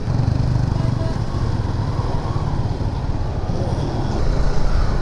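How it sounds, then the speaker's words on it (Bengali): Several motorcycles on a group ride from Bogura toward Kuakata make a steady, loud engine rumble, continuous and close throughout with little change in level. "আমরা প্রায় 7 জন বাইকার, 6টা মোটরসাইকেল নিয়ে রওনা দিয়ে দিলাম কুয়াকাটার উদ্দেশ্যে।"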